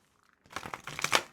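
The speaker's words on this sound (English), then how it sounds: "Spirit said, shuffle more." Tarot cards are shuffled in a short close burst of papery riffling and crinkling that starts abruptly and fades after about a second.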